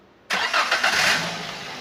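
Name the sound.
Daihatsu Granmax 1.3 pickup engine starting and idling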